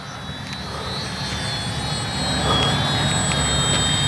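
An FMS Ranger 1220 RC plane flying overhead, its electric motor giving a steady high whine that swells slightly louder toward the end, with no talking.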